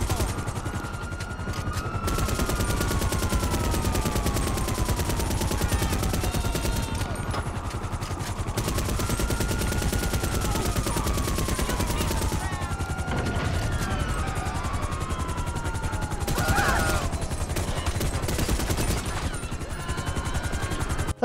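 Rapid automatic gunfire in the video game GTA Online during a Chop Shop robbery mission, dense bursts of shots over continuous engine-like drone with recurring sweeping whines and a sharp crash near the end.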